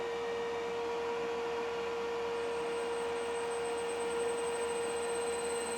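A motor running on a variable frequency drive at about 20 hertz, on a drilling machine, gives off a steady, loud, high-pitched tonal whine over a constant electrical hum, unbroken and with no talking.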